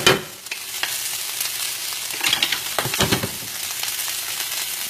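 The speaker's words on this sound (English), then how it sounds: "So I'm just tossing these over. Get them sauteing." Broccoli sautés in a pan with a close, steady sizzle, broken by a few tossing and stirring clatters, with no talking.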